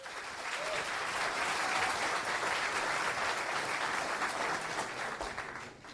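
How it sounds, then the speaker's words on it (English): Conference audience at FOSDEM applauding a speaker before a Go concurrency debugging talk: a steady, moderately loud burst of clapping from a full room that holds for several seconds and then fades out. "I'll give an applause for Andrew."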